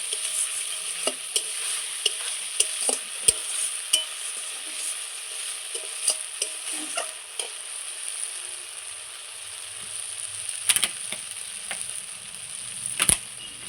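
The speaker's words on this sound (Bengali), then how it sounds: "লবণ আর হলুদ দিয়ে খুব সুন্দর করে মশলাটা কষিয়ে নেব" Spice masala with salt and turmeric fries in a pan for oil koi fish curry, a soft steady sizzle broken by repeated scraping and clinking of the stirring spoon.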